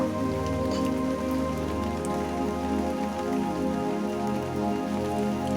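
Steady rain pattering on a surface, blended with a low, sustained musical drone underneath.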